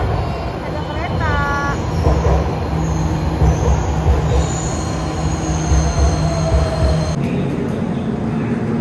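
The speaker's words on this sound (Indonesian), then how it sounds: "Ada kereta." A train rumbles past close by, a steady heavy roar with metallic wheel squeals and whines rising over it, people talking faintly underneath, near Bundaran HI in Jakarta.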